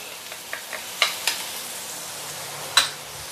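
Garlic, galangal and fresh coriander roots sautéing in a pan: a quiet, steady sizzle broken by a few sharp clicks of a utensil against the pan.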